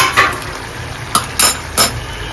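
A spoon scraping and clinking against a pan while stirring a dry cashew vegetable dish with coriander, four or five sharp metallic knocks over a steady background hum, no talk.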